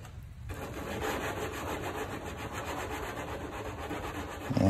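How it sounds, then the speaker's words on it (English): A flat file and a rat tail file smooth the metal edges and corners of a Cessna 170A STOL install part, giving a continuous close rasping and scraping rub that holds steady without pauses. "Here I'm just cleaning the edges and the corners with a flat file, and I've got a rat tail file for the corners"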